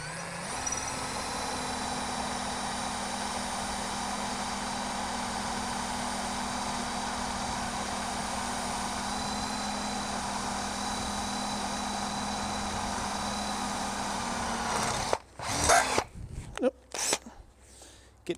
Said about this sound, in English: So this drill going full out is a bad thing for this drill bit.